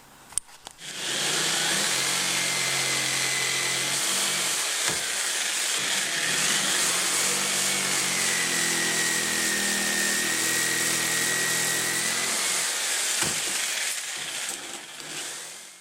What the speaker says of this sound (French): avec une scie sauteuse.